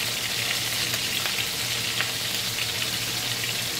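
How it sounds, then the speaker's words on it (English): Mushrooms fry in a pan with a steady, dense crackling sizzle, close and even throughout, with faint scattered clicks from tossing and no voices. "into the mix they go. And toss them around a little bit"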